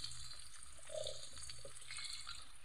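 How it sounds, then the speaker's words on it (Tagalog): Water is poured into a soup pot of sautéed ingredients for miswa and patola soup, a short steady splashing stream with faint drips, quiet and without speech. "Lalagyan natin yan ng tubig."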